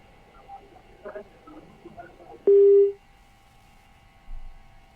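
A single flat electronic telephone tone sounds loud and close for about half a second on a news phone line that fails to connect, after faint murmuring background voices.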